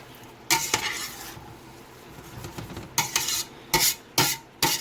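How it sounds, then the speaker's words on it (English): Vegetables for Louisiana-style red beans and rice cook over medium-high heat in a pot, sizzling softly beneath several scraping stirs from a spoon, with a run of sharp strokes toward the end and no talking. "Now you want to mix all that together and continue to cook over medium-high heat."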